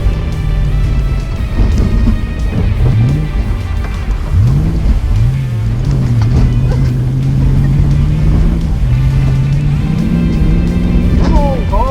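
A remote control car's motor whines loudly as it races up a steep slope, its pitch climbing and dropping in repeated surges over a rough, continuous rumble.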